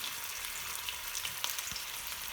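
Beef pieces sizzle and crackle steadily in a hot pan while browning for a casserole, a close, continuous hiss with a few louder pops.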